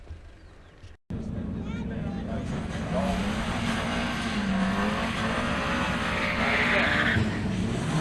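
A car launches down a drag strip with a sustained, loud engine roar and squealing tyres, after a brief quieter lead-in and a sudden cut, building steadily as it pulls away.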